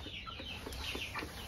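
Peruvian laying hens clucking in a low, continuous flock murmur, with soft overlapping clucks and calls spread across the clip against a steady background.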